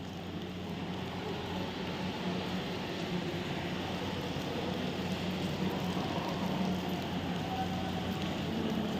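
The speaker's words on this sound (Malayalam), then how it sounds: "ഇപ്പോൾ ചെറിയായിട്ട് മഴ തുടങ്ങിയിട്ടുണ്ട്." Light rain falling at Guruvayur temple at night, a soft continuous wash of patter with a low steady rumble beneath, even and unbroken throughout.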